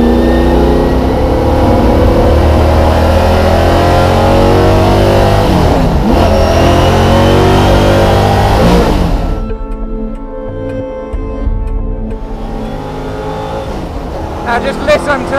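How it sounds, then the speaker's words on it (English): A loud 5-litre V8 engine in a Lola T70 race car revving hard on a track and climbing through gears, then easing off to a lower rumble before picking up again. "Iconic car, listen to that V8."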